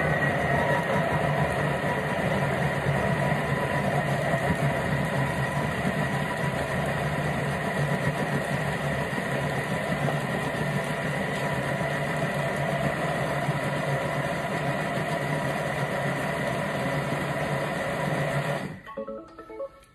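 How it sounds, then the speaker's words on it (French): A kitchen mixer blends cooked apples into compote, a steady loud motor whir holding constant for about nineteen seconds before cutting off abruptly near the end. "On va mixer 20 secondes, vitesse 5."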